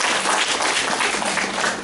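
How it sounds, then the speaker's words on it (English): A church congregation claps together in a dense, steady wash of applause that stays loud and even throughout, with no voices rising above it. "Hello, can we get one more clap for them?"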